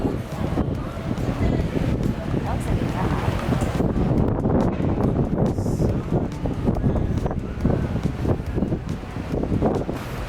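Strong wind near the Tagus River in Lisbon buffets the microphone in a loud, continuous rumbling roar, with a voice faintly underneath.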